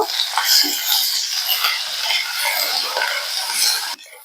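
Chopped vegetables and green chillies sizzle and crackle steadily in a pan, a continuous close frying hiss with a few stirring scrapes, breaking off briefly near the end.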